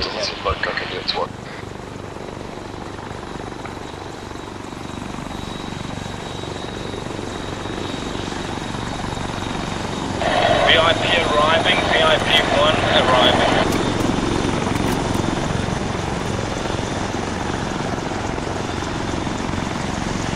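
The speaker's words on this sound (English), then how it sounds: "Chopper incoming." An Arma 3 game helicopter drones steadily with a throbbing rotor hum, joined midway by brief radio-like chatter over the engine noise.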